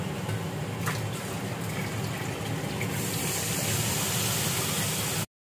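Water poured into frying spice paste of cumin, coriander and turmeric for a fish curry, a steady broadband gush and sizzle lasting about five seconds before cutting off.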